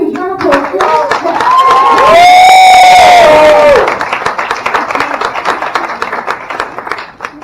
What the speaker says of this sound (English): Please give a huge round of applause for